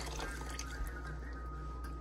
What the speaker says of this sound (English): And now I'm going to add some chicken broth to the water.